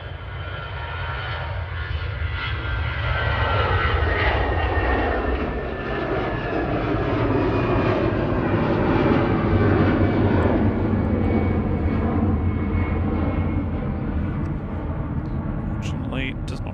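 An EasyJet jet airliner roars at Manchester Airport, its engine noise swelling and holding as a steady broad rumble at moderate distance, with a voice talking over it.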